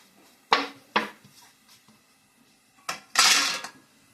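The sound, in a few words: stirring black pepper and spices in a cooking pot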